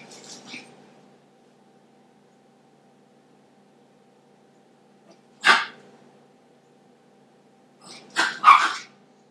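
A dog barks a few times in the distance against a quiet room: one sharp bark near the middle, then a tight double bark toward the end, with long silent gaps between.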